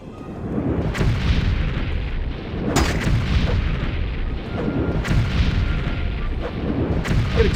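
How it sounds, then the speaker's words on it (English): Repeated booming blasts from cast explosion spells in the video game Morrowind, several sharp bursts every second or two over a dense, rumbling low-end background. "It exploded."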